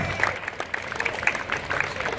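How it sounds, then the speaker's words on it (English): An audience at a car show claps for the Best Club Display winner. The brief, fairly faint, steady patter of many hands sounds from some distance in a busy, echoing space. "Round of applause, please."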